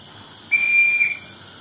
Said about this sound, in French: petit coup de sifflet pour prévenir en gare.